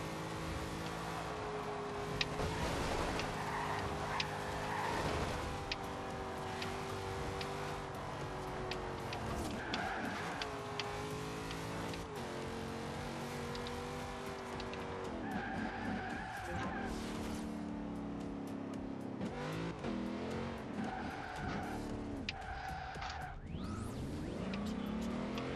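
A Ford Sierra RS500 Cosworth in the Forza Horizon 2 racing game revs hard with long, loud tire squeals and skids, its engine rising and falling through gear changes.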